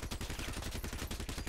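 Rapid-fire machine gun in the Crossout vehicle combat video game lets off a dense, fast stream of loud rattling shots, continuous and close, with no talking.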